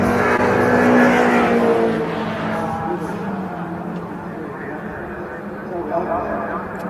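MG Cup race cars rev past the start-finish line at a circuit, engine drone rising and then fading away under a commentator's continuous talk.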